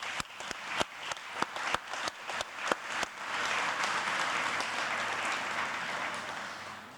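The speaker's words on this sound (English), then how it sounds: "please join me in giving a round of applause to your support network" At a teacher of the year ceremony, a few sharp, separate claps ring out in a loose rhythm before the audience joins in, swelling into steady, full applause that carries on evenly to the end.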